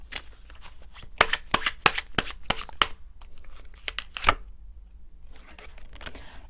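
Tarot cards are shuffled by hand in a quick burst of crisp riffling flicks at close range, then quieter soft rustling of the deck follows, with no talking.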